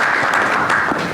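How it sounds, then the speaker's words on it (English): Audience applause at a conference session, a brief, loud burst of dense clapping close by with no talk over it. "All right, give a round of applause."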